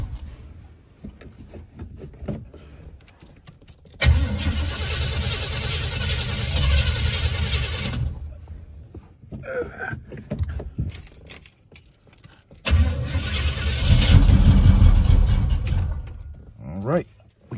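A supercharged Oldsmobile Cutlass engine that won't start cranks in two long, loud, close bursts of about four seconds each, failing to catch, with quieter gaps of rattling and jingling keys between them.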